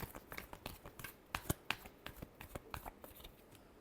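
Tarot cards are shuffled by hand, giving a quick series of soft riffling snaps and taps that are close and fairly quiet, with irregular bursts over a few seconds.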